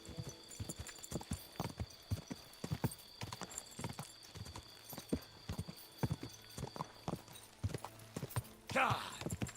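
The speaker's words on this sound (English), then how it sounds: "I can get the horse to go for longer." A horse in Kingdom Come Deliverance II gallops with rapid, even clip-clopping hoofbeats, fairly quiet and steady, ending with a brief whinny-like burst.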